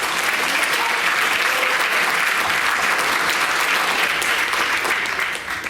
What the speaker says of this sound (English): How about one more round of applause for Mr. McCurth for a wonderful job?